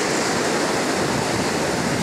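Sea waves break and wash in a steady, loud roar along Betalbatim beach in South Goa, continuous surf with no voices over it.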